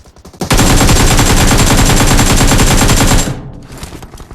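Loud, dense automatic gunfire from a BGMI/PUBG battle royale match, a sustained rapid burst of about three seconds that cuts off abruptly, followed by fainter trailing noise.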